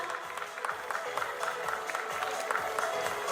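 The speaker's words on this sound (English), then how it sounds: "A big round of applause." Applause at a school felicitation ceremony, a fairly faint, steady patter of clapping from a crowd with low murmuring and background noise beneath it.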